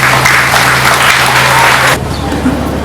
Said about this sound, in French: je vous prie d'applaudir pour vous-mêmes